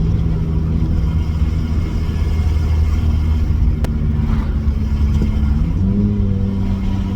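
A car with a Mitsubishi 4G15 engine and a GT3582 turbocharger accelerates, producing a loud, steady low engine rumble that shifts upward in pitch near the end, heard from inside the car with no talking.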